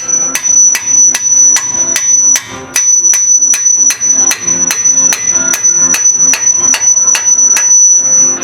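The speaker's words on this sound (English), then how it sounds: "Now we got that started, we got a little bigger hammer." A hammer drives a pickle fork against a tie rod on a 1989 Dodge W250 Cummins truck, about seventeen sharp, ringing metal strikes in a steady, evenly spaced rhythm, loud and close with no voices.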